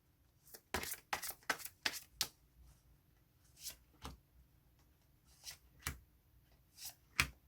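Tarot cards are shuffled and drawn: several quick riffling bursts in the first two seconds, followed by sparser, sharper card slaps and slides, all close and fairly quiet with no voice.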